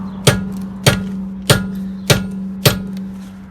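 Five evenly spaced, sharp knocks of a tapping stick striking a Ford Transit Sport wheel, each crisp hit ringing briefly over a steady low hum, close and loud with no talking.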